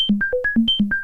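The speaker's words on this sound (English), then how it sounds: "So what you're hearing now is literally the bandpass self-oscillating." A self-oscillating synthesizer bandpass filter with no input, producing a rapid sequence of short pure-tone blips that jump between high and low pitches, with each note struck sharply then fading, loud and clean.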